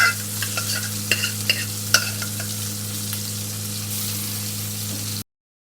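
Cooked chana fries in a pan while being stirred, a continuous close sizzle with several scraping stirs early on before the sound cuts off abruptly.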